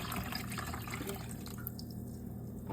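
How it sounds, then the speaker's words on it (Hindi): Water pours steadily into a steamer pot, a soft continuous trickle and splash heard close up with no talking. "सबसे पहले ना मैं इसमें पानी डाल देती हूँ"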